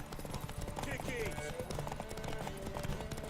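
Horse hooves clip-clop at a gallop in The Witcher 3, a steady rapid rhythm running under continuous talk and game music.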